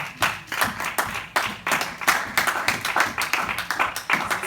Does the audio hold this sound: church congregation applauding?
yes